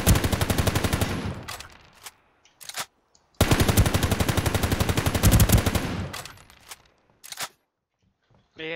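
Two long bursts of rapid automatic gunfire in the video game Ring of Elysium, loud and close, each lasting a couple of seconds, followed by a few scattered single shots in otherwise quiet gaps.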